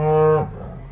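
A single loud, close moo from a cow, a low droning call lasting under half a second before it drops away into quiet farm background.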